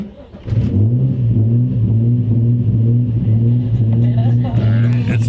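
Nissan 350Z engine idling roughly with the mass airflow sensor disconnected, a steady loud hum that wavers and surges in pitch throughout, close to the mic.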